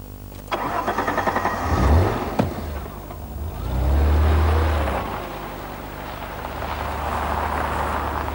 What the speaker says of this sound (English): I've always loved the Alfa V6 unit. It's got a lovely exhaust snarl to it